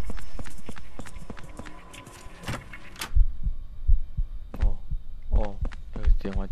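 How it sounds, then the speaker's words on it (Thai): A heartbeat in the video game Eclipse thumps as a steady low double pulse, loud and close, beneath other game noises and brief voices speaking. "เสียงหัวใจนี่แปลว่าอะไร"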